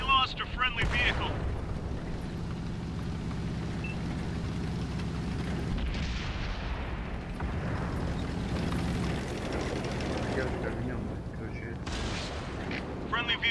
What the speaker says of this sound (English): Artillery fire, take cover.